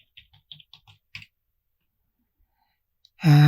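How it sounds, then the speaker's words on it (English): A sudo password being typed on a computer keyboard in a Kali Linux virtual machine: about a dozen quick, light key clicks in an uneven burst, then a short silence before a loud sustained tone cuts in. "Type your sudo password"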